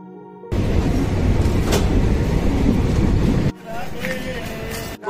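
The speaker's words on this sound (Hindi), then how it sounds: "अभी ट्रेन पहुंच चुकी है कन्नौज सिटी रेलवे स्टेशन।" Indian Railways train at Kannauj City station, a loud broadband rumble of the arriving train filling the first few seconds, then easing to a lower steady station din with faint tonal squeals.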